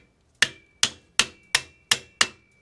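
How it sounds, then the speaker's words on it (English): A screwdriver tapping the rod of a rusty rear drum brake wheel cylinder on a 1961 Imperial Custom: six sharp metallic taps, evenly spaced and close, each ringing briefly before the next. "we're gonna take a screwdriver, we're gonna hit the rod just gently"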